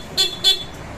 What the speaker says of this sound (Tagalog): Saka yung busina, Bosch Europa.